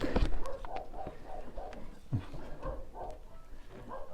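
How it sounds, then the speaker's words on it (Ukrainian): A dog barks faintly several times in the distance at a farm where young white Muscovy ducks are being weighed, the barks thin and scattered over low background noise. "ну, щось гавкає."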